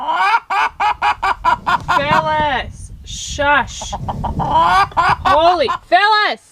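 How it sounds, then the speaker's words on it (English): A chicken clucks in loud, rapid bursts close by, breaking into higher squawking calls, while someone speaks over it, hushing the bird. "Chicken!"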